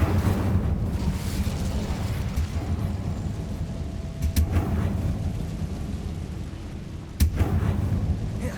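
Casting the Incendio fire spell in Hogwarts Legacy, a dense, rumbling roar of fiery bursts that runs throughout with louder cracking blasts near the middle and end, loud and close with no talking.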